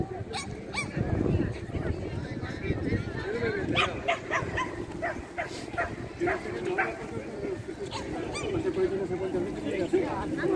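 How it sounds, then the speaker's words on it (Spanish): Small dogs bark at a busy seaside market promenade, with a few sharp yips and barks scattered among crowd chatter and nearby talking. "Los que andan son los perritos."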